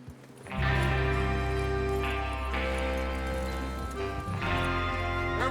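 Horses setting off in Red Dead Redemption 2, with loud, steady clip-clop hooves and jingling tack carried over a dense game score. No one speaks.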